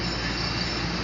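A passenger train running on its rails, heard from inside the carriage as a constant loud rumble and rolling hiss with faint rhythmic wheel thumps underneath.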